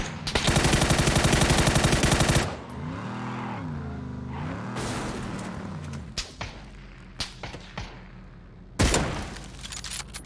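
Gunfire in the video game PUBG: a long, loud, rapid automatic burst, then after a pause several sharp single shots and short bursts spaced irregularly, ending with one more heavy burst.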